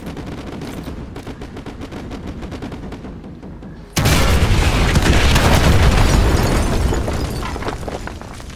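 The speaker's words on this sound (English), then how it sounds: "Fire mission received. Artillery inbound." Artillery strike in the video game Call of Duty Modern Warfare 2, opening with rapid gunfire bursts, then a sudden loud explosive impact at about four seconds that rolls into a sustained rumbling barrage of blasts.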